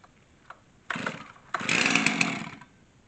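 A Husqvarna chainsaw cold-starts on full choke after a pull-cord yank: a short cranking burst, then the engine catches and roars loudly for about a second before dropping off, heard close with no talk.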